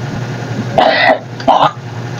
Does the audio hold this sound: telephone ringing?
no